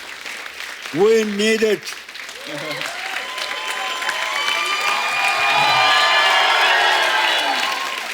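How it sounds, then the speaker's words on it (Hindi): A voice speaks briefly, then a crowd breaks into loud applause and cheering with whoops, building and sustained to the end. "जोरदार तालियां हो जाएं"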